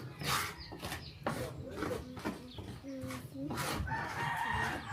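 A rooster crows close by in a rural Filipino yard, its rising, drawn-out calls cutting through steady conversation, with clucking and other fowl noises underneath.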